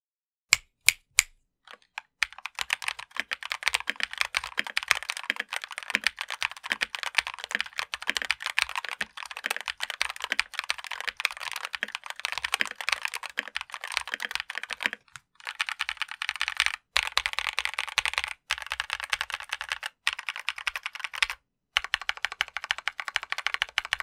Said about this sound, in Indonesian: Dan beginilah hasil akustik DA Mecha RS setelah dimodifikasi.